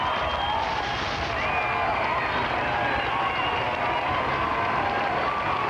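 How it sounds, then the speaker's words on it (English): A roadside crowd cheers and roars along the 1984 New York City Marathon course, a dense continuous wash of voices and whistles holding steady throughout. "Let's listen just for a moment to this crowd."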